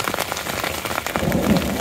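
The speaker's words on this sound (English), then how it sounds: "Hail." Hail pelting down on a Colorado mountain hiking trail at night, a dense steady patter of icy stones on the ground and gear that grows heavier and louder toward the end, with no talking.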